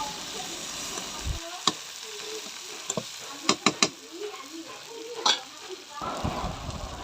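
Potato chunks and Malabar spinach stems sauté with spices in a pan, a soft frying sizzle broken by several sharp spatula clinks and scraping stirs, close and fairly quiet.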